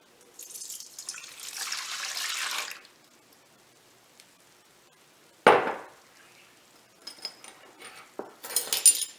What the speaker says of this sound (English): 1 cup of milk mixed with 1 cup of hot water.